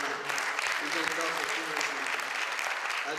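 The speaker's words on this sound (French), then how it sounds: "je pense que c'est bien d'applaudir Puma Energy Ghana" An audience applauds Puma Energy Ghana at a formal presentation event, a dense, steady wash of clapping that runs the whole time with voices mixed in.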